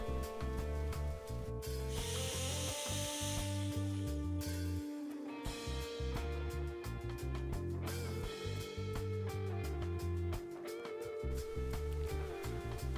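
A jigsaw cuts through thin wood panels for a paddleboard build, a continuous harsh buzzing rasp that pauses briefly a few times and then resumes, close and loud with no talk.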